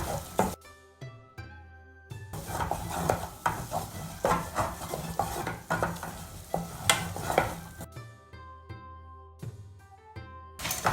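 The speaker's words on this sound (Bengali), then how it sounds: "আটা বা ময়দা দিয়ে আমরা ভালো করে মিক্স করে নিব" Flour is stirred into melted butter in a pan for a baked penne pasta sauce, giving bursts of soft sizzle and scraping. A spoon clinks against the metal in an uneven rhythm, and quiet gaps fall between the strokes.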